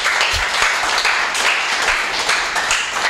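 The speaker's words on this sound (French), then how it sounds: "Applaudissez pour le Seigneur." A congregation at a church service claps loudly and continuously, a thick wash of applause with a few heavier, rhythmic claps and stomps underneath.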